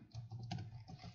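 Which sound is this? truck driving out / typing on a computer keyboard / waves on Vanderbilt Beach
typing on a computer keyboard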